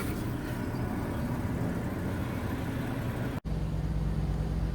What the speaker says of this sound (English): I've got the engine running because the Ciga plugs will only fire up when the car's running.